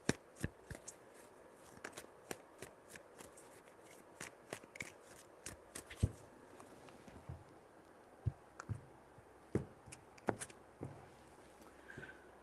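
Soft, faint taps and flicks of tarot cards being handled and shuffled, scattered irregular clicks over a quiet room background.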